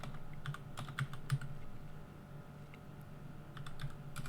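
Keys click steadily on a computer keyboard in a quiet room, a quick irregular run of soft taps with a faint low hum underneath.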